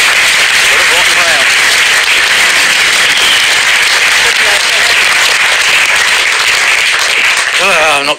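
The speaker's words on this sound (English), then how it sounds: "I'm not quite sure why people were applauding that" A studio audience at a Deal or No Deal game show applauding, loud dense sustained clapping filling the whole stretch with voices calling out over it.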